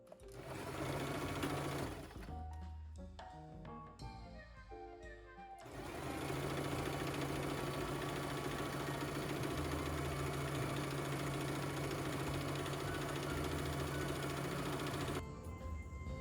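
A sewing machine stitches together sock pieces for a pillow, starting with short stop-and-go bursts of stitching before settling into a long, steady, close run that ends abruptly.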